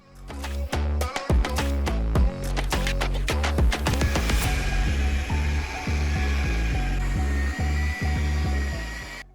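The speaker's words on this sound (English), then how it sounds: "I also have this heavy-duty electric polisher with a foam pad on it that I've used before that has worked well on plexiglass" Heavy-duty electric polisher with a foam pad working on plexiglass from a carnival arcade machine, a steady loud motor whir with rapid rattling clicks early on that settle into continuous grinding hum.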